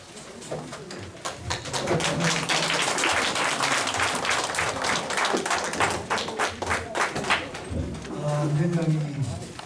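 Lecture-hall audience in a large auditorium breaks into applause at the close of a talk on Daegu culture, a burst of scattered claps rising and fading, with a voice speaking over parts of it.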